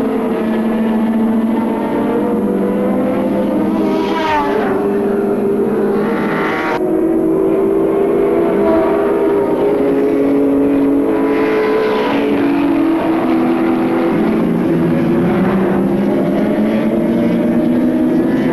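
Touring cars race at Oran Park in the 1984 Australian Touring Car Championship, their engines droning continuously with rising and falling revs as they pass through corners. The sound is loud and steady throughout, with no voices.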